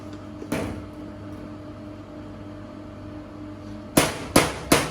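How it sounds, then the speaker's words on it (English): A soufflé mould is tapped on a kitchen counter, giving one knock early and then three sharp, close raps in quick succession against a steady background hum. "Little tap just to knock out any of the excess air"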